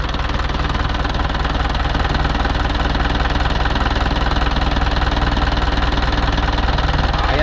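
An Isuzu 4BC2 diesel engine running steadily at close range, with its breather lifted, a continuous rough knocking idle that holds at constant loudness throughout, with no talk over it.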